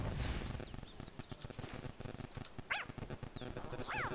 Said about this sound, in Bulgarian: Аз ще галя кучето ти.